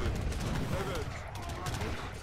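Cannon fire in an Age of Empires III battle against the Ottomans, a rapid string of crackling gunfire and booms at moderate loudness, with some speech in the mix.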